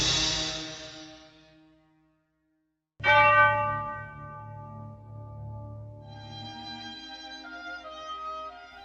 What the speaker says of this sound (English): With the sound of the church bells comes the arrival of the dawn